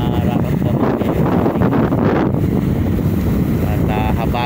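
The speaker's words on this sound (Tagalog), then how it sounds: "malakas yung ating hangin ngayong umaga" Strong morning wind over Manila Bay buffets the microphone with a constant heavy low rumble, loud and continuous throughout.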